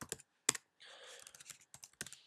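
Keys tapped on a computer keyboard while logging in: a few scattered close clicks followed by a quicker burst of typing, some strokes louder than others, with gaps of silence.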